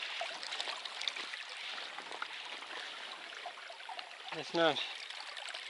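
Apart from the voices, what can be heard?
small creek flowing water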